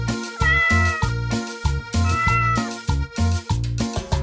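Cat meowing in a rapid run of short, loud, repeated calls with brief gaps, close and alone with no talk.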